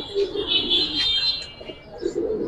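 Pigeons coo at a busy pigeon market, a rolling low coo repeating near and loud over a background of bright chirps and crowd noise.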